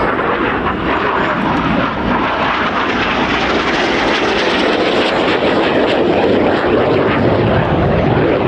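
Red Arrows display jets pass at the RIAT airshow in 2025, a loud sustained roar that swells and washes across the whole stretch with no voices.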